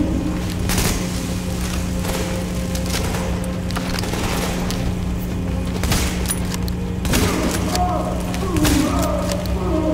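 Bursts of rapid gunfire and heavy thuds trade back and forth over a constant low hum, loud and close, like a firefight in the video game The Division.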